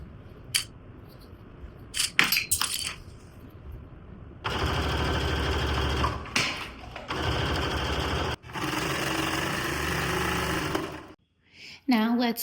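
A serger overlocks a shoulder seam on a quilted coat, with a few short bursts and then long fast whirring runs broken by brief pauses, running close and loud.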